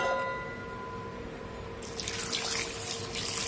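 Water runs from a tap into a pot of shark fish curry with turmeric, starting partway through after a quiet hum, then flowing steadily and fairly softly to the end.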